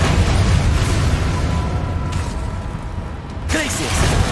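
A Bombarda blasting spell detonates in Hogwarts Legacy, a loud, rumbling game explosion with crackling debris that fills the whole stretch, a brief dip near the end, then another boom.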